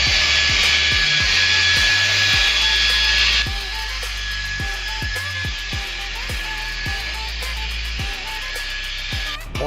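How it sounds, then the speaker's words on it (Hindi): A rotary polisher runs steadily on motorcycle paint with Meguiar's Ultimate Polish, a close, continuous high whine and hum that drops slightly in pitch partway through. A low rhythmic thumping sounds underneath. "यहाँ पे मैग्वायर्स अल्टीमेट पॉलिश का यूज़ कर रहे हैं हम लोग और रोटरी पॉलिशर से"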